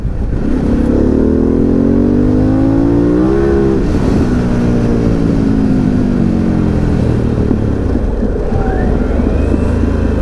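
Harley-Davidson Pan America adventure motorcycle revved hard, its engine note climbing steeply for a few seconds before dropping back and cruising under loud wind rush, close and strong with no talking.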